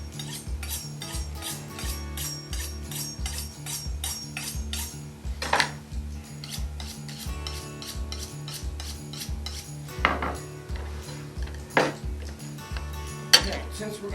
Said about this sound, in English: I have a fillet knife and a sharpening steel. You always want to sharpen before you do this.